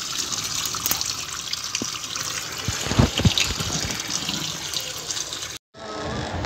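Water gushing from a tap while red spinach is rinsed under it, a steady close splashing flow with a few louder splashes midway, then a brief cut before the running water resumes.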